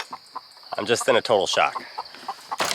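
Backyard hens and a rooster cluck and squawk nearby in short, irregular bursts, heard between and beneath a person talking.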